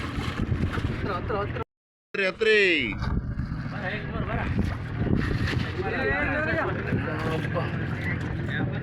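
Steady engine drone and wind buffeting of a fishing boat under way on water, with people talking over it throughout and a brief dropout partway.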